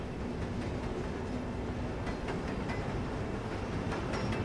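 A train running on rails, a steady rumbling roar with faint rhythmic clicks from the wheels, continuous and fairly close.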